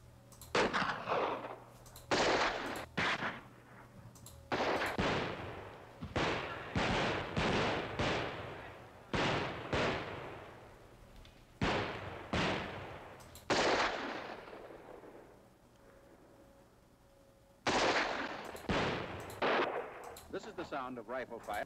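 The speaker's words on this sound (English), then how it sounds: "the crack of bullets passing overhead, and the report of discharge is the Browning automatic" A Browning automatic rifle fires in repeated short bursts, each one loud and close with sharp cracks of bullets passing overhead and a trailing echo, spaced out by brief gaps, including one longer pause near the end.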